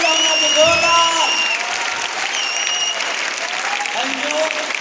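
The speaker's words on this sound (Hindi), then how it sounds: "जोरदार तालियां होना चाहिए, जोरदार" A crowd at a Royal Achiever business event breaks into loud, sustained applause, the dense clapping mixed with cheers while someone talks into the microphone above it.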